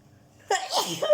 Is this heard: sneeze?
yes